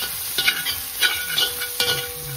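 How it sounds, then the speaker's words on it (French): Small onions frying in a pan for sausage rougail, a soft crackling sizzle broken by several scraping stirs of the spoon, close up and with no talking. "Voilà le petit oignon. Bien frit d'abord."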